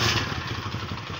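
A motorcycle is wheeled out and started with a close, loud low engine rumble, mixed with clattering thumps and no talking.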